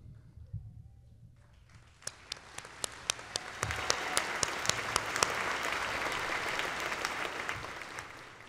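Audience at a high school graduation ceremony applauds, starting from a quiet room and swelling into a steady wash of clapping with sharp individual claps standing out, continuing for several seconds.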